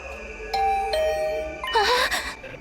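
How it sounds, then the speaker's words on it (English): A doorbell in the video game The Hundred Line: Last Defense Academy rings late at night, a clear two-tone ding-dong repeated, then a brighter chime burst near the end, close and fairly loud. "My heart did a somersault when my doorbell suddenly rang."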